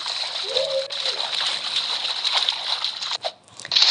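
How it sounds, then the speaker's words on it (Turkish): A cannonball jump into a pool or open water makes a broad, continuous splashing and sloshing that fills most of the clip, loud and close, with children's voices faintly under it. "buradan atla. Bombalama."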